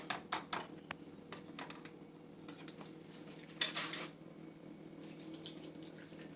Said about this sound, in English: we're going to take it and just pour it over the meat and the vegetables